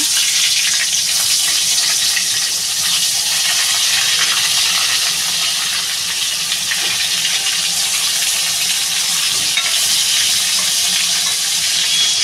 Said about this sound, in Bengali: আমি এবার বেগুনটা ভেজে নেব